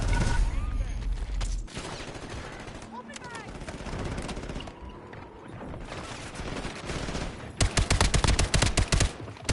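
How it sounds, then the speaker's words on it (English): Gunfire in a video game shooter with a sniper firing, heard as repeated bursts and volleys of shots through the clip and ending in a loud rapid rattle of automatic fire, while someone talks over it. "I'm getting sniped out. And I'm shot at."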